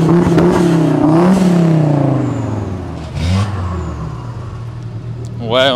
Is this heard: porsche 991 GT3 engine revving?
yes